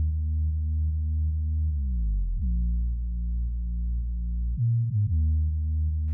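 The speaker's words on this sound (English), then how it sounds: "So this is what the updated bass for the break sounds like." Deep synth bass line for a hip-hop beat's break, sustained long notes with gliding pitch slides between them, heard alone, clean and steady.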